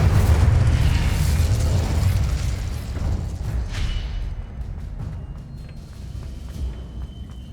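A fire-spell blast in the Hogwarts Legacy video game booms out loud at the start, then a rumbling roar slowly fades across several seconds, with scattered smaller pops and crackles trailing behind.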